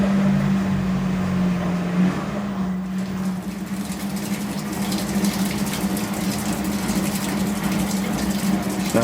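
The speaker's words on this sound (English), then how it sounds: "It's actually draining out the tub now. That's the pump running." An LG washing machine's drain pump runs steadily while emptying the tub, a continuous low hum with a sustained tone and a constant, fairly loud whirring under faint background noise.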